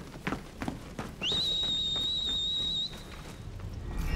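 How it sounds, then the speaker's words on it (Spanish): A sharp, steady whistle in Final Fantasy XVI calls a steed, held for about a second and a half over quiet game ambience, with faint footsteps and clatter around it. "Final Fantasy X, el mismo silbido"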